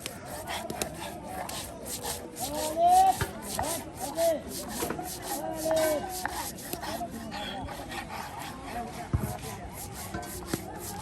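Spices ground by hand on a traditional stone grinding slab in a village give a rhythmic scraping rub with soft knocks, close by, while people talk over it.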